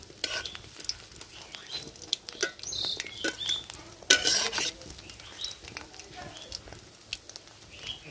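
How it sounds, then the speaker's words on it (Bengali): Shrimp kofta frying in a pan as one side is turned over, a light sizzle and patter with scraping and soft clinks of a utensil, irregular and close, with voices talking over it. "এক পিঠ ভাজা হয়েছে, তো আরেক পিঠ উল্টাই দিতেছি।"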